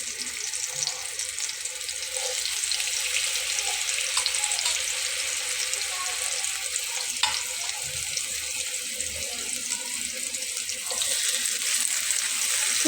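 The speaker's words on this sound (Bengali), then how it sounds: "তো আমি এখন মাছটা দিয়ে নিচ্ছি। আমার তেল গরম হয়ে গেছে দেখুন।" Hilsa fish frying in hot soybean oil, a steady loud hiss and sizzle that runs unbroken throughout, with faint clinks of a spatula.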